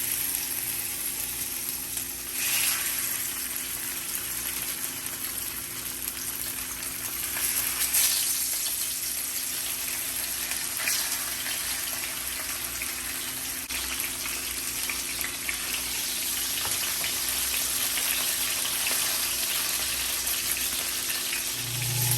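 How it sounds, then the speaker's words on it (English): Salmon fillets frying in a pan for a creamy Tuscan salmon dish give a steady, close sizzle with a constant hiss, running on alone without talk. "Now I'm going to go ahead and start adding my salmon"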